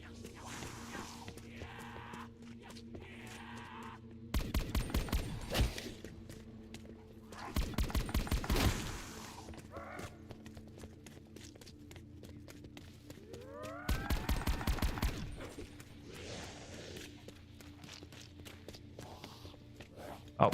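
Bursts of rapid automatic gunfire from Black Ops 4 Zombies, three loud volleys of roughly a second each spaced seconds apart, over game ambience and footsteps, with players talking between bursts.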